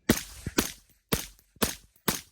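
A rifle fitted with a HuxWrx Flow 36 TI silencer fires five suppressed shots in quick, slightly uneven succession, each a sharp, loud crack with a short tail and no voices.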